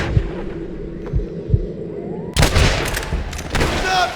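Red Dead Redemption gunfire: a few scattered, muffled shots give way to a sudden dense burst of rapid firing and explosive crackle, with speech mixed in.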